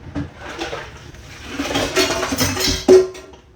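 A skillet is shifted aside in a home kitchen, with scattered clanks and scrapes of metal cookware, ending in a sharp, close clatter near the end.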